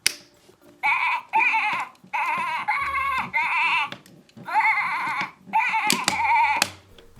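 A series of bleats, repeated in bursts with short pauses between them, close and fairly loud, with a small lamb also present nearby.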